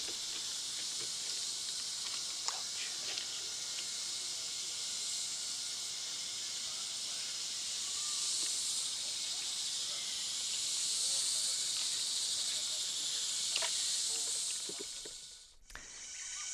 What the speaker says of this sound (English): the noise in the background are cicadas